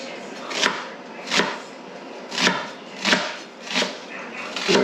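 An onion being chopped into very small, thin pieces for Mexican refried beans: six sharp knife strikes on a cutting board at a steady, unhurried pace, close and clear, with no talking.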